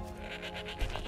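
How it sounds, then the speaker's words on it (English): A goat bleats in the Skyrim Anniversary Edition farm setting, a few wavering, nasal calls of moderate loudness over faint game ambience with no talking. "there's a goat."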